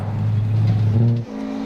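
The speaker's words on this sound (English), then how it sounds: "Jeff Torkington, a new driver of the championship in his unusual Toyota MR2 mid-engine coupe, 4th on day 1." A Toyota MR2 mid-engine coupe rally car at Rally Whangarei, a 2014 New Zealand Rally Championship round, holds a steady, droning engine note. The pitch then drops abruptly near the end, as if shifting or lifting off.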